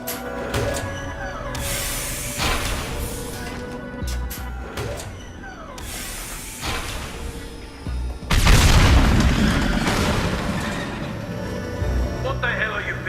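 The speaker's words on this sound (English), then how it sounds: "It's easily enough to blast through the wall." A fuel-filled blast tears through a wall in a Mass Effect fan series scene, a sudden loud boom partway through that rolls into a sustained roaring wash, following a stretch of tense, busy sound-effects and background noise.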